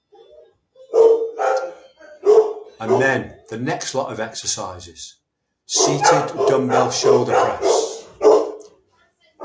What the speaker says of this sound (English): excuse the dogs barking in the background